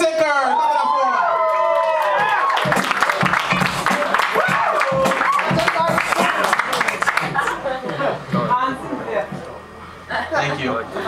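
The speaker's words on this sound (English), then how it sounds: "Clap it up for him." An audience at a comedy club claps and cheers for a comedian taking the stage, with the applause building after an opening stretch of talk and whoops, then carrying on with laughter and chatter mixed in.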